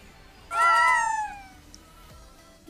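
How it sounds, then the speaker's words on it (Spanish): Several kittens meowing close by in a short burst of high, rising-and-falling cries that fade into quiet. "¡Oh, gatitos!"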